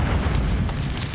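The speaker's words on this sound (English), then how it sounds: "Grenade out" A loud, sustained grenade blast rumbles in a shooter video game, a dense low boom filling the whole moment without any voices.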